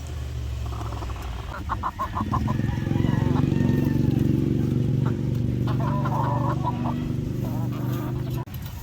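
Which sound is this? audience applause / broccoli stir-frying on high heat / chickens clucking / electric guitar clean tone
chickens clucking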